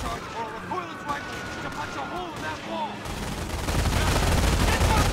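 Gunfire in a Company of Heroes battle, with an MG-42 machine gun firing from a guard tower amid shouted voices and background music. The shots are dense and scattered, and the noise of battle grows louder and thicker midway.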